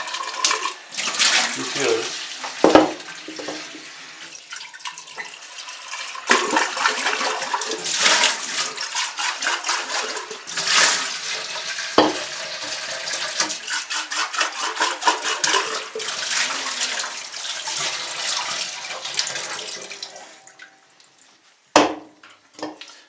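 A sink tap runs steadily as water purifier filter housings are rinsed under chlorinated water, a loud continuous splashing with occasional knocks of plastic against the basin, ending abruptly before a last clatter.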